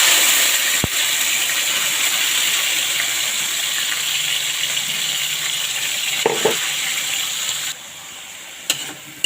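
Liver frying in cooking oil in a pan for ampalaya con atay, a steady close hiss and crackle of sizzling lasting throughout, with a sharp clink near the start and a few brief knocks later.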